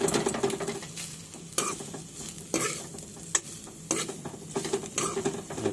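Maggi noodles fry in a pan with a loud sizzle, while a spatula stirs and scrapes them in repeated sharp strokes close by.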